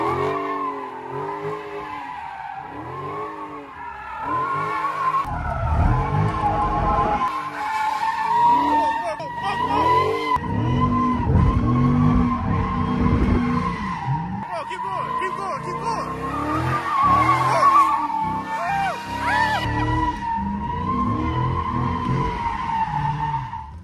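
A Dodge Scat Pack or Hellcat slides with its tires skidding and squealing, the engine roaring steadily throughout, while people talk over the noise.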